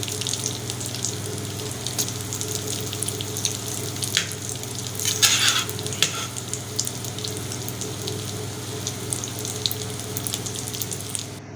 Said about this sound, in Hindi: ये शामी कबाब हो गए हैं फ्राई